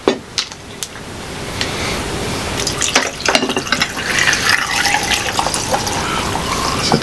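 Water poured into a drinking glass at a table during a mukbang meal, later made into lemon water: a few light clinks, then a steady, fairly loud pour running for several seconds with no talking.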